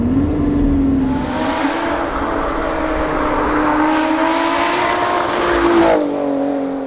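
The one-off Lotus Exige 430 Cup 'Type 49' engine revs hard and climbs quickly through the range, a loud, close, rising tonal wail that dips as it shifts and then snaps off near the end.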